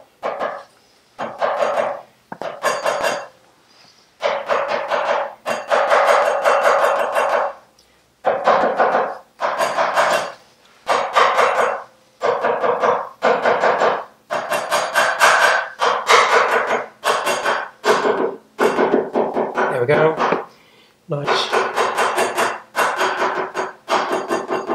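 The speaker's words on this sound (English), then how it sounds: "I'll just get my soft tapping stick." Gentle tapping with a soft tapping stick on a Firebird under restoration, near fresh sealant, in a long run of quick, fairly loud knocking bursts separated by brief pauses.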